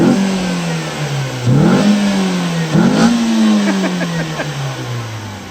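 A MINI Cooper time attack car's engine revs repeatedly from inside the cabin, rising in pitch through the gears with sharp drops at each upshift, loud and close, ending in a falling note.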